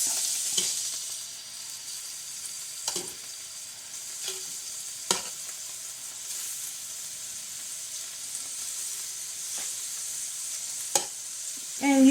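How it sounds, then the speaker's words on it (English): Pork chops searing in hot melted grease in a pan, giving a steady close sizzle with occasional brief pops and clinks, no voices. "And we're going to give them a nice sear on both sides."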